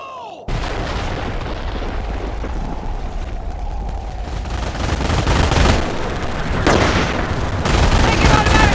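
Heavy automatic gunfire and explosive booms fill a war video game battle with steady dense bursts, loud and close, with shouted voices mixed into the din.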